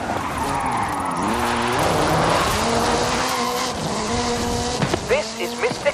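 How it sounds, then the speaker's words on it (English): Drifting Ken Block's Hooligan Gymkhana 10 Ford Focus RS RX, a 2-litre turbocharged all-wheel-drive car, in Forza Horizon 5: a loud, continuous engine note rises and falls with gear changes while tyres squeal, with a voice talking over it. "This is Mr. Kenneth Block's Hooligan Gymkhana 10 Ford Focus RS RX. 2-litre, turbocharged, front-mounted engine and all-wheel drive"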